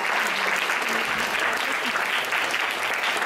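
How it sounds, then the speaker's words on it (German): Audience clapping for a pole dancer at a pole theater show, a full, dense burst of applause from a crowd, loud and unbroken for the whole stretch. "Erstmal ein kräftiger Applaus."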